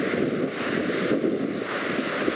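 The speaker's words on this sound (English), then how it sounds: "Those are waves back there crashing." Big ocean waves crashing far out at Washaway Beach on the Washington coast, heard as a steady, loud roar of surf mixed with wind buffeting the microphone, with no pauses.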